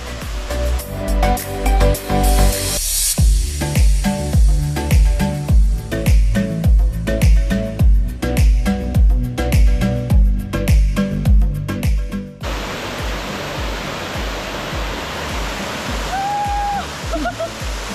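Rhythmic background music with a steady beat plays for most of the stretch, then gives way to the broad, continuous roar of the waterfall at Taglucop Strawberry Hills, loud and near, with a brief whistle-like tone over it.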